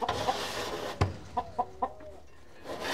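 Soft, short clucks from silkie chickens, a few in quick succession over low background noise, fairly close.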